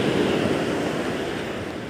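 Ocean surf breaking on a Philippine beach during shore casting, a continuous close roar of waves mixed with wind buffeting the microphone, loud and unbroken.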